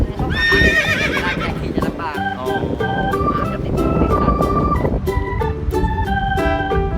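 A white gelded horse at the seaside whinnies loudly near the start, its voice trailing off, while steady hoofbeats clip-clop throughout against wind and surf noise, with people talking over it.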